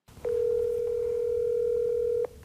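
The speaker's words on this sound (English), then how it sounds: "we got the owner of Apex, Cliff Wharton, on the phone" A telephone line rings during a call to a Nashville booting company owner: one steady electronic tone lasting about two seconds, loud and clear, then cutting off into quiet line hiss.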